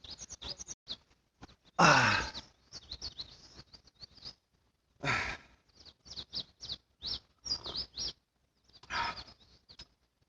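Morning birdsong at a Korean campsite: short bright chirps and trills repeat in spaced phrases, broken by a few breathy sighs and low grunts nearby.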